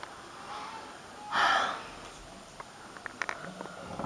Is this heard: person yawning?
yes